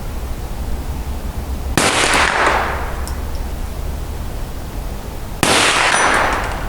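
Two sharp metallic rings from a shot striking a steel target at night, each a bright clang with a fading tail, spaced a few seconds apart over a low steady background hum.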